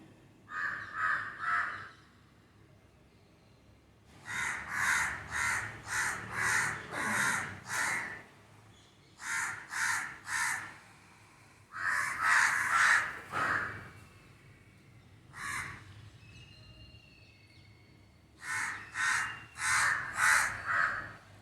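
House crows caw in repeated bursts of three to five harsh calls, separated by short quiet gaps, fairly close and clear with no talking.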